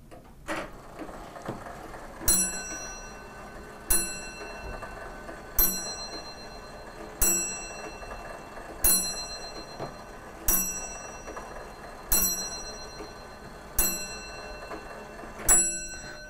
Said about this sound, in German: Zuerst wird die Glocke schlagen 9 Mal.